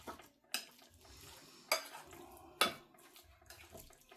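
Stirring vegetable oil in a bowl: a utensil scrapes and clinks against the bowl in a few sharp knocks, soft mixing sounds between them, close and quiet.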